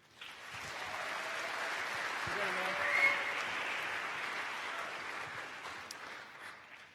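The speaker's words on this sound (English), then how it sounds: "Round of applause for Adam." Sustained audience applause for a speaker at an Ignite evening show, a dense steady wash of many hands clapping for about seven seconds, with brief faint voices underneath.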